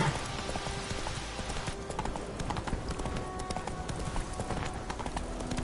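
Roach the horse gallops in The Witcher 3, a steady run of close clip-clop hoofbeats that continues throughout the clip, with a brief faint whinny-like sound underneath.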